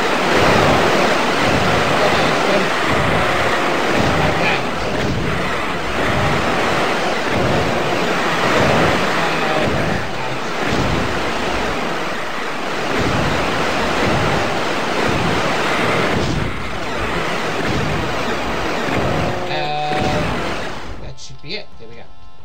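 Water ambience in a Doom 2 custom map: a loud, constant wash of rushing water like surf or a waterfall fills the whole stretch, ending in a brief burst of game sound.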